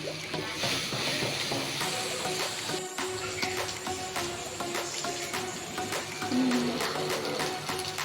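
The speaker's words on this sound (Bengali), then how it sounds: "পেস্টটা 5 থেকে 10 মিনিট আমরা তেলে ফ্রাই করে নেব।" Spice paste frying in hot oil for a potol bharta, a steady broadband sizzle that holds throughout at an even level, with faint scraping and stirring sounds and no talk.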